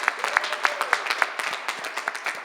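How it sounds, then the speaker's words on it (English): Scattered applause from a press-conference audience with a mayor present, a handful of distinct, separate claps in loose rhythm rather than a full roar, moderately close. "Can we give her a round of applause?"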